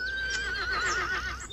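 A horse from a children's animated railway series gives a single loud, wavering whinny lasting over a second, clear and close with no talking.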